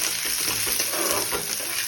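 Five or six cashew nuts frying in oil already darkened from frying paneer, a steady close sizzle filling the whole two seconds with no voices.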